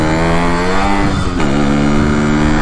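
A tuned Yamaha RX 100 motorcycle engine revs loudly and steadily up close during a ride, its harmonic buzz dipping briefly around the midpoint before climbing again.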